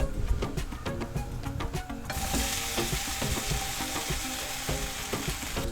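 Banana pieces sauté in a pan for a Kerala banana roast, giving a continuous crackling sizzle with rapid clicking and scraping from stirring, growing into a broader, hissier fry partway through; close and steady, with no talk.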